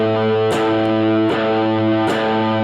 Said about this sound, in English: you can hear I'm playing every string, but only that one note is ringing.